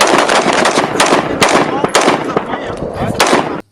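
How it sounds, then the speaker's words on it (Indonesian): A toy M4 gun fires its electronic sound effect, loud, rapid machine-gun bursts rattling continuously for a few seconds before cutting off abruptly. "Wadidaw, ada mainan tembak-tembakan."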